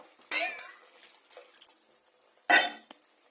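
Water is added to a quail egg roast curry in a pan, with two short splashing pours separated by faint clinks and handling sounds, fairly quiet overall.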